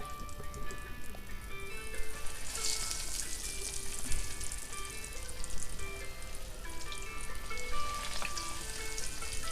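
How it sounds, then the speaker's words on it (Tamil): Cornflake-coated prawns frying in hot oil on a stove turned low: a steady, fairly quiet sizzle and crackle with occasional sharper pops, continuous throughout with no talking. "உடனேயே நம்ம வந்து எடுத்து வச்சுருக்க இந்த ப்ரானை வந்து இதில் சேர்த்துடலாம்"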